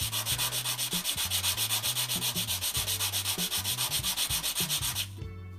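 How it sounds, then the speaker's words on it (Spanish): Wet sanding a ceramic tile edge with fine 320-grit waterproof sandpaper, rapid rhythmic rasping strokes, close and even, stopping abruptly at the end. "es de 320, lija al agua, humedezco un poquito y voy a deslizar el borde"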